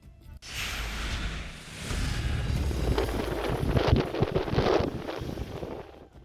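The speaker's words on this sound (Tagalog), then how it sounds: "Kita ang lakas ng hangin sa mga puno." Strong wind roaring and gusting against the microphone and through trees in Ilocos Norte, building into a heavy, continuous rush with rustling through the middle.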